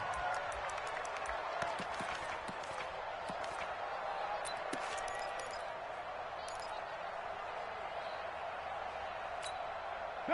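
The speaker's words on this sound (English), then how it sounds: "One of the bigger plays in the game thus far, and the crowd getting into it as we come up on a big 3rd down." Football stadium crowd roaring steadily ahead of a third-down play in a Chargers game, a dense, continuous wash of cheering with scattered whistles and shouts, no single voice standing out.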